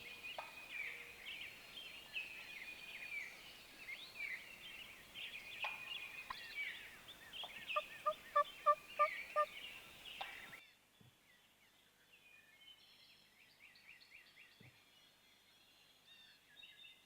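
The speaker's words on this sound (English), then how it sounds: "this bird stays in behind us in this field and he's gobbling" Wild turkey gobbler in a field behind a tree line, heard among busy birdsong: a short series of gobbles from a moderate distance, before the surroundings drop to quieter bird calls.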